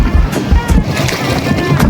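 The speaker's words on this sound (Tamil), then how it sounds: "காய்ஸ் இப்போ நாங்கள் போட்டில் போயிட்டு இருக்கோம்" A boat moving across water on a ride in the Kolli Hills, with steady wind buffeting and a low engine-like rumble. Splashing swells come and go, and people talk over it.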